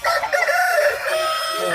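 A rooster at a Sunday poultry market in Erode district lets out a loud, close crow that rises and holds, with market noise faint behind it.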